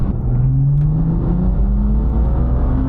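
A BMW M2 (F87) engine revs hard to the redline, its pitch climbing smoothly as it pulls upward, loud and close with a deep rumble underneath.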